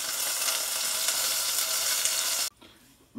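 Loud, close sizzling of a steak searing in a hot pan, steady and hissing, then cutting off abruptly near the end.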